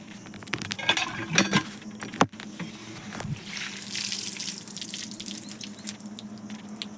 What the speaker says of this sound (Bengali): ফুলটা ধুয়ে নিয়ে আসি, তাহলে ফুলটা টাটকা থাকবে।